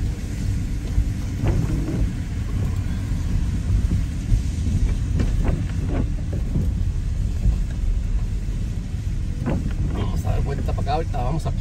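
Steady rain with a low, constant wash and rumble throughout, under a voice talking, with scattered soft knocks and hisses.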